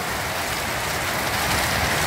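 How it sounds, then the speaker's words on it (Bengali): Heavy rain pours down in a dense, continuous hiss, loud and close, with no voices over it. "আমার এখানে খুব প্রচণ্ড পরিমাণে বৃষ্টি হচ্ছে।"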